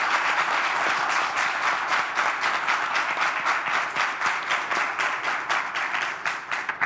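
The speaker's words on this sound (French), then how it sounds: "Merci d'applaudir et d'accueillir comme il se doit Amir El Presidente." A studio audience applauds to welcome a guest on a live show, sustained dense clapping from many hands, loud and close throughout, thinning slightly at the very end.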